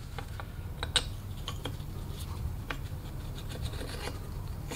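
An engine valve slides into the valve guide of a Vortec cylinder head, giving soft metallic rasping and scraping with a few sharp clicks over a low background hum, close and fairly quiet.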